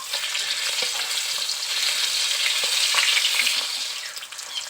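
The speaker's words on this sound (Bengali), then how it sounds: "মাছের একটা সাইড আমি ভালো করে ভেজে নিয়েছি, এখন মাছগুলোকে একটু উল্টিয়ে দেবো।" Koi fish frying in oil in a pan for a Bengali recipe, giving a steady, close, continuous sizzle with small crackles throughout and no talking.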